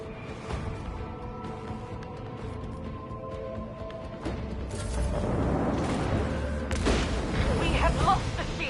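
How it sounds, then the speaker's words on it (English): Torpedoes striking a ship in the Warhammer Rogue Trader video game: rumbling booms and layered impacts build in the second half, rising to a heavy sustained crash under intermittent speech. "4 torpedoes are gonna hit me."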